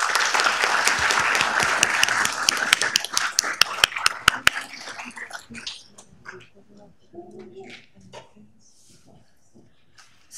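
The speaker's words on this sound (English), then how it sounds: "Let's give them another round of applause." Applause at a city council meeting, loud and dense crowd clapping for about four seconds before thinning to scattered claps, followed by quiet murmuring voices in the room.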